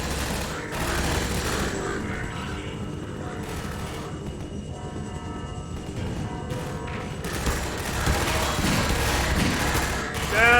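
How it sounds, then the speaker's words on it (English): Panicked bursts of gunfire in Half-Life 2 rattle loudly over a dense game soundscape of mechanical noise and rumble, with brief gaps between the volleys. "Ah, panic shooting!"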